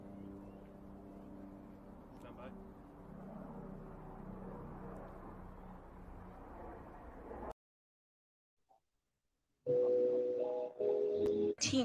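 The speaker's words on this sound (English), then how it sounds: "the plane is going overhead." Aircraft passing overhead at an outdoor candlelight vigil, a steady broad engine roar lasting several seconds before cutting off abruptly, followed by people talking.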